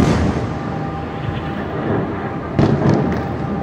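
Explosions and rockets in footage of a military attack with ground troops, heard as a dense continuous roar with a heavier thud near the end, loud and unbroken, with no voices.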